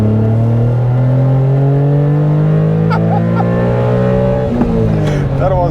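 A BMW M3 engine with a 5-speed gearbox revs loudly and close up in a long, steady rising drone, with a brief voice near the end.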